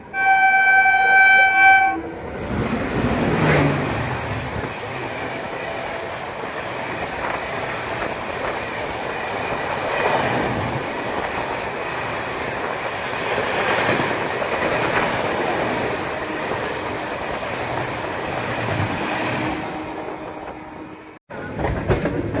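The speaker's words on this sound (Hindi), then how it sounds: "दिल्ली जंक्शन से चलकर पठानकोट की ओर जाने वाली Pathankot super fast express crossing होने वाली है हमारे साथ" The Pathankot Superfast Express rushes past on the Indian railway in a long, loud roar of wagons and clattering wheels, with a brief horn at the start, fading abruptly near the end.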